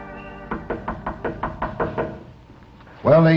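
A series of about ten firm knocks on a door in an old radio drama, a steady rapid rhythm, near and clear, followed after a short pause by a voice speaking.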